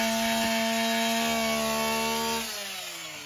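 A chainsaw cuts through a residential roof for vertical ventilation, a loud steady whine with a sharp harmonic drone that drops in pitch near the end as the cut eases, heard alone.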